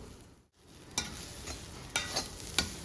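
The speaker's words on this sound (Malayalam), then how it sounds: "എണ്ണ ഒഴിക്കാതെ തന്നെ നമുക്ക് തേങ്ങ നല്ല ചോക്കയൊന്ന് വറുത്തെടുക്കാം" Grated coconut dry-roasted in a pan with no oil for a Kerala-style shark curry, a faint, soft rustle broken by a few sharp spatula scrapes and taps, no one talking.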